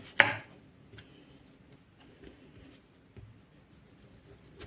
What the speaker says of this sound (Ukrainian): Відрізаю все зайве.